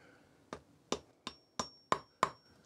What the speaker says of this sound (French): Et à l'aide du marteau,